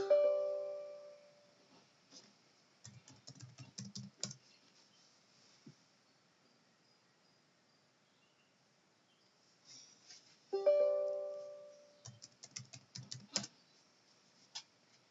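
A password is typed on a computer keyboard in two separate bursts of quick, quiet key clicks. Near-silent pauses fall between the bursts, and the first burst opens with a brief chime.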